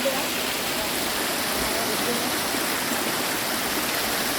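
Continuous rushing of a flowing hill stream at Paithalmala, Kerala, steady and broadband, filling the whole clip without pause.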